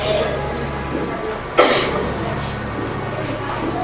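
A single sharp cough breaks through a steady low hum, loud and close, with quiet room noise before and after.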